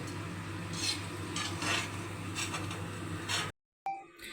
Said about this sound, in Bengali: এই কড়াতেই আমি কর্নটা টস দেব।